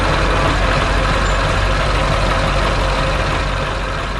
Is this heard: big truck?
yes